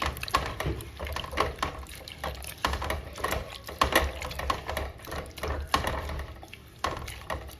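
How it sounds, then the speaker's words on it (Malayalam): Close, rhythmic scraping and wet sloshing as a spoon stirs a thick green mango fish curry in a pot, with no talking. "എന്നിട്ട് നല്ലവണ്ണം ഇളകി കൊടുക്കണം"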